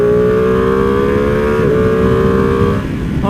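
A 2021 Ducati Panigale V2 sport motorcycle engine held at a loud, steady high rev close up, with a brief pitch shift midway before easing down at the end.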